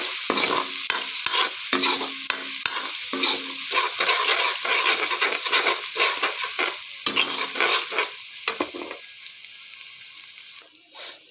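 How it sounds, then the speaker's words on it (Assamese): Meat sizzles loudly in a pan while a spoon repeatedly scrapes and stirs, rhythmic clacks over constant frying that quiets near the end. "ভাজি লওঁ ভালকৈ।"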